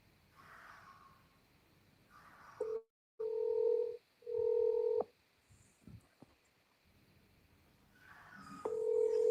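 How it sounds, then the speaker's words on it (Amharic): Outgoing phone call on speakerphone: a quiet pause, then repeated long electronic ringback tones in regular pulses, with brief clicks and room noise between them. "እየጠራ ነው። ስፒከር ላይ ላድርገው።"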